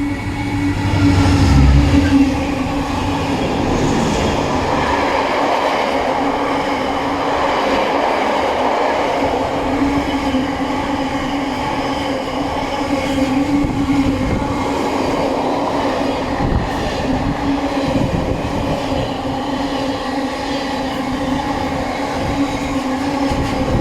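A GBRF-hauled freight train rumbles past near Coleshill Parkway station in the West Midlands, a loud continuous roar of wagons and wheels close by, with faint rhythmic clatter over the rails throughout.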